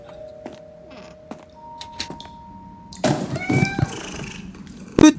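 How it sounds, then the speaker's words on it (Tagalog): A cat meows in the horror video game Midnight Crane, a short cry near the end that follows a burst of clattering and rustling noise against quiet ambient tones. "Pusa lang pala."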